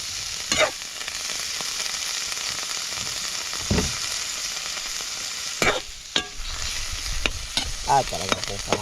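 Fish and tomatoes frying in a pan for kinamatisan na isda, a steady sizzle broken by several louder bursts of stirring and spatula scrapes, close up with no talking.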